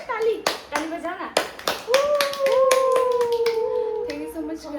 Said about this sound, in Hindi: ताली ताली बजाना।